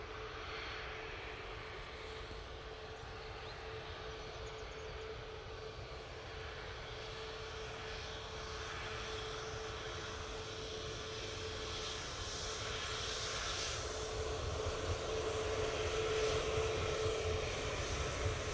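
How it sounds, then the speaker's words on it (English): Ryanair airliner landing at Manchester Airport, its engine roar steady and broadband and slowly growing louder as it passes close over the runway centre markings, with no talk. "Ryanair's going right over the centre markings. You can actually hear it."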